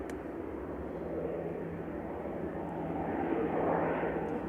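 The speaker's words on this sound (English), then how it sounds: "There's a little Pilatus heading up." A small Pilatus propeller aircraft climbs away after takeoff at Manchester Airport, giving a steady, moderately loud engine drone that swells slightly toward the end, heard from a distance with no talk.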